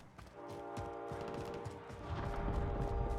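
Rapid gunfire crackles through a Call of Duty Warzone match, a steady layered fusillade of shots over droning game music and ambience, loud and continuous with bursts growing denser toward the end.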